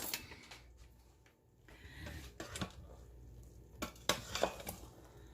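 A metal spoon scrapes and clinks quietly against an Instant Pot, with a few sharp taps and brief stirring sounds over a soft background hum. A chicken dish is inside the pot.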